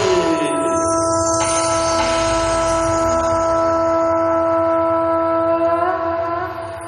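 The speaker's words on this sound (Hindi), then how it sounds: "भगवान कृष्ण शंख को बजाने लगे" Panchjanya conch shell blown during a Bhagavat Katha gathering in a village, one long, loud, sustained trumpeting tone held for several seconds before fading slightly at the end.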